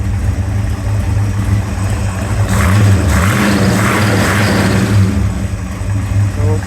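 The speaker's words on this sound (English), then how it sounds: "we'll crack the throttle here a little bit" A 1932 Ford pickup hot rod engine with twin mufflers revs up, its throttle cracked open over a steady rumbling idle, loud and close with a brief rise in the middle.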